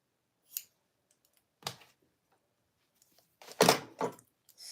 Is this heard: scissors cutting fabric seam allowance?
yes